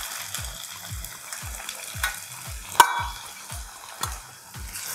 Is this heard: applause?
no